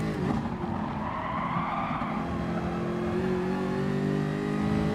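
A Jaguar race car in Gran Turismo Sport slides through a corner, tires skidding and squealing over a continuous loud engine drone, close and sustained for several seconds without talk.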